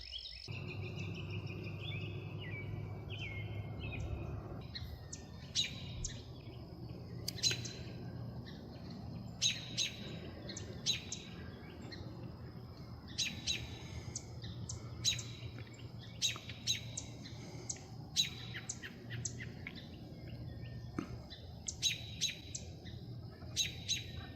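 Songbirds chirp and trill repeatedly beside a lake, bright calls scattered over a steady low outdoor hum with faint insect buzzing, no voices.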